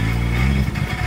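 A drift car's engine runs loud and close, a steady deep rumble with a rough, pulsing idle that wavers slightly near the end, with no talk over it.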